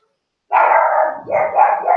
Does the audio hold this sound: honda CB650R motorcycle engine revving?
no